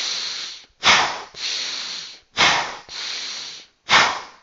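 Running-style rhythmic breathing in a 2-1 pattern repeats as pairs of loud, close breaths followed by a single sharper exhale, cycling evenly three times with brief gaps.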